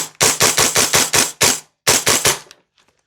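An EMG CYMA Noveske N4 airsoft rifle fires a quick string of about eight sharp, punchy shots, loud and close, with a short pause before the final few and a faint mechanical rattle after.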